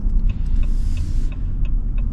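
A 2026 Ram 1500 Warlock with a naturally aspirated Hemi V8 rumbles steadily and close, a deep low throb holding even throughout with no talk over it.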